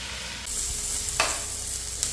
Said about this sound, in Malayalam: സബോളയും വെളുത്തുള്ളി ഇഞ്ചി എല്ലാം അവിടെ കിടന്നതാണ് നല്ല സെറ്റായിട്ടുണ്ട് നല്ല മൊരിച്ചെടുക്കണം